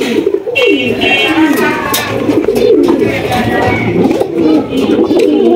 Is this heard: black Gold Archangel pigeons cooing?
yes